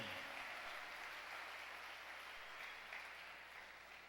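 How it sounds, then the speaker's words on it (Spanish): Faint, distant applause from a large church congregation, a soft continuous wash of clapping that slowly fades toward the end. "Dale fuerte ese aplauso al Señor"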